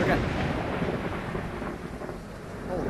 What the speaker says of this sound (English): Thunder is loud.